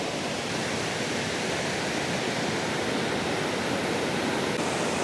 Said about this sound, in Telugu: that is the water fall, సుచిపర water fall in Wayanad